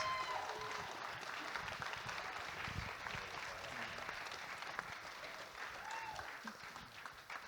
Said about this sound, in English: Warm round of applause for our guests.